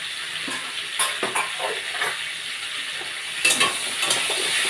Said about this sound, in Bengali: এটা একটু ভাজাভাজি হবে, একটু কষে নেব ভালো করে।